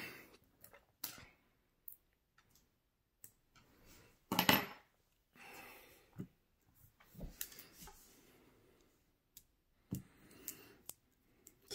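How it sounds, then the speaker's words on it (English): Small plastic clicks and taps from a SIM card tool popping the SIM tray out of an iPhone XS Max, a scattered series of sharp, close ticks with one louder rattling burst midway, no talk. "Get your SIM card tool to pop it out"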